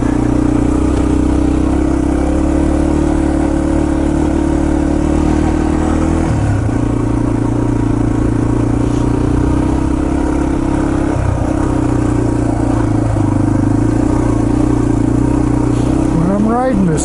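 A Yamaha TT-R230 dirt bike on a trail loop sends up a loud, steady engine drone from close by, with shifts in pitch as the rider works the throttle and someone speaks now and then over it.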